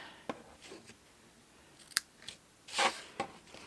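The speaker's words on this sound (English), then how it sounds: "new scissors are so good to cut with" A few crisp, close snips of scissors cutting, scattered irregularly with quiet gaps between them.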